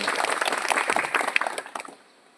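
Crowd applause at a police station gathering honouring the Porsha police, dense clapping from many hands that thins out and fades over about two seconds.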